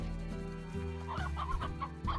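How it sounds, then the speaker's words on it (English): Chickens clucking in the video game Slime Rancher, a run of short, fairly close clucks and squawks with no talk over them. "Look at all these tasty chickens."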